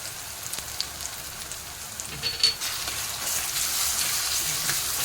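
Ginger garlic paste and tomato sautéing in hot oil for a potato curry, giving a steady hissing sizzle, close and moderately loud, swelling slightly louder toward the end with no talk.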